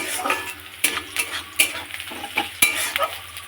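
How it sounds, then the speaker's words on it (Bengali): Boiled chow noodles stir-fry in a pan, giving a close sizzling hiss with repeated sharp scrapes and clatters as the utensil turns them. "দেখো চাউ হচ্ছে,"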